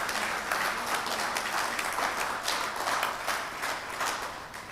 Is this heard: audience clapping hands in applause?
yes